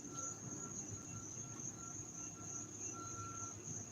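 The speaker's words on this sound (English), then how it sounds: "You hear the crickets?" Crickets chirping outdoors at night, a faint, steady high-pitched trill that runs continuously over a low background rumble, with no voices.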